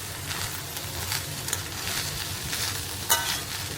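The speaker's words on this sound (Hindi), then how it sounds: "तो मैं इसमें राइस ऐड कर रही हूँ। राइस ऐड करने के बाद हम इसको अच्छे से मिक्स करेंगे।" Boiled rice stir-fried with vegetables in a hot pan, a constant close sizzle with rhythmic scraping stirs and one sharp clink of the spatula near the end, no talking.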